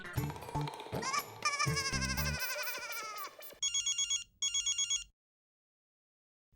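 A telephone rings in two short bursts of electronic trilling, preceded by loud music and clatter, then silence.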